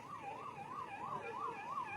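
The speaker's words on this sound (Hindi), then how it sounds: "देखो एम्बुलेंस है क्या," An ambulance siren wails in a steady up-and-down cycle on a road jammed at night for a politician's welcome, moderately distant over faint traffic noise.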